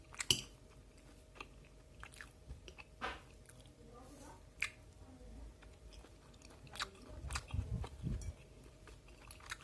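Close, moist chewing of cilok, Indonesian tapioca balls, mixed with tofu from a bicycle street vendor, with soft squishy bites and a few crunchier moments scattered through, growing busier near the end; faint background noise.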